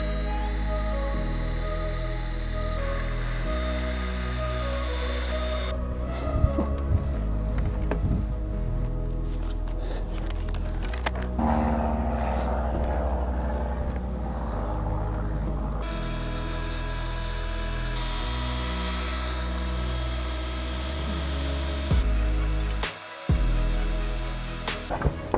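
A drill fitted with a polishing pad buffs an RV's exterior surface in a steady, droning whir that stops partway through and then resumes. Occasional clicks and handling knocks break in.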